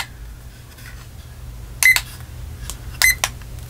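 A kitchen timer is set, giving two short bursts of bright, sharp beeps about a second apart over a quiet room hiss.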